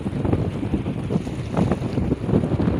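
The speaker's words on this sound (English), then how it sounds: "I'm sorry for the wind." Wind blowing outdoors, a continuous low rumbling roar buffeting the microphone with gusty surges throughout.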